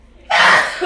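A single sudden, forceful human sneeze bursts out after a short quiet lead-in, loud and close.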